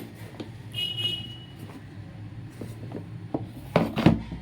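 A plastic storage box packed full of beans has its lid pressed on: soft rubbing and handling noises, then a few sharp close clicks and snaps near the end as the lid seats.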